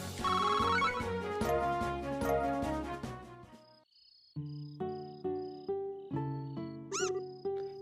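Short electronic meow chimes from a cat in the role-playing video game Trails in the Sky, repeated several times over game music with bright tonal notes.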